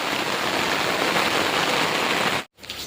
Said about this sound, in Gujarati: હજી તો શરૂ જ છે વરસાદ